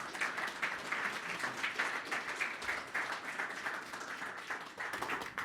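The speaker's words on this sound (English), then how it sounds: "Let's give a round of applause for Anthony." An audience at a hydropower panel event in New York gives a panelist a round of applause, a dense and steady wash of many hands clapping at mid distance that lasts the whole stretch.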